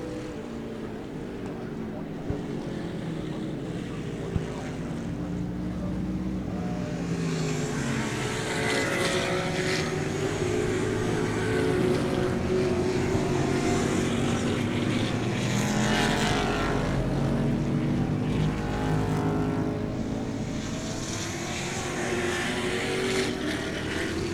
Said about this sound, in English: Okay, and here comes your Spec Corvettes